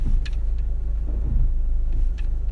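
Car engine idling and creeping while the driver maneuvers out of a tight narrow road, a loud steady low rumble close by with faint brief clicks and no speech.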